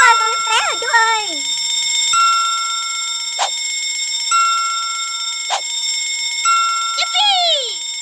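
An alarm bell rings during children's firefighter play, with a steady ringing tone throughout and a few sharp bell strikes at intervals, while a voice and other vocal sounds come and go.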